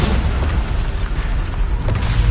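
Bombarda spell blast in the video game Hogwarts Legacy, a loud, deep booming explosion rumbling close and continuously for a couple of seconds with a brief sharper burst near the end.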